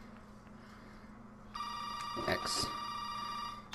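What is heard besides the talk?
telephone ringing in video game Resident Evil 7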